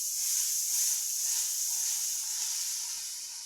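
Ginger and garlic frying in a pan for a potato bharta, giving a steady, close sizzle and hiss that holds evenly throughout with no talking.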